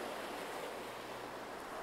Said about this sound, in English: The wind was still blowing. The waves were bigger than ever.